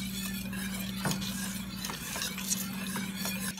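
Vanilla bean caramel sauce made with organic cane sugar and real butter bubbles and sizzles in a pot. There is a steady close fizz, light stirring scrapes and an occasional clink, over a constant low hum.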